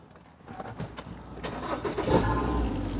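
A 2011 Nissan Teana J32 with all-wheel drive starts up: a crank builds after half a second, then the engine catches and settles into a loud, steady rumble up close.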